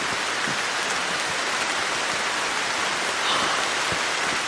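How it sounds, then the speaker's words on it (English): Steady rain patters densely on an overhead cover in Fiji, a continuous hiss of drops with no voices. "It has started to rain"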